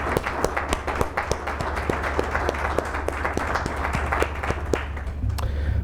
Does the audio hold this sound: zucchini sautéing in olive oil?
no